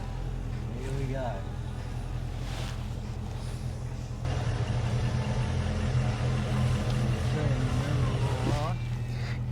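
A Ford Fairmont ESP car engine runs at a steady low rumble, then gets louder as the car drives away, with people talking over it.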